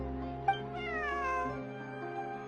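A cat in Genshin Impact lets out a long, drawn-out meow that rises and falls over a steady background hum.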